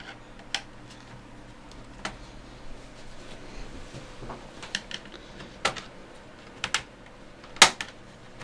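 Plastic laptop case clicking as its clips are prised apart while removing parts to reach the wireless card; sparse sharp clicks and snaps at irregular intervals, close and fairly faint, with one louder snap near the end.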